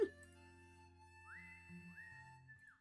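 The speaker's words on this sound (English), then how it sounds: "This sounded like some very melancholic whistling and bloody harmonica" Melancholic whistling and harmonica music from Pokémon Sun and Moon plays softly, with a sustained whistled tone sliding up into long held notes over a quiet low accompaniment.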